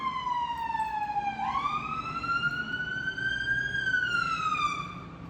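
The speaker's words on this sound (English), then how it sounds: "Is that a fire engine?" A fire engine siren wails on a street, its pitch sliding down and then rising again in a slow, loud sweep that fades a little at the end, with no talk over it.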